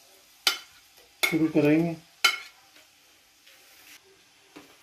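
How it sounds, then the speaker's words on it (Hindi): Onions being stirred in a pan as they soften for chicken biryani over a moderate flame, with a few sharp scraping strokes and a brief sizzle between quiet gaps, close up, and a voice speaking briefly. "अब इसमें हम डालने लगे हैं प्याज।"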